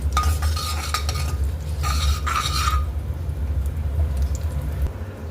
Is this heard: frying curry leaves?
yes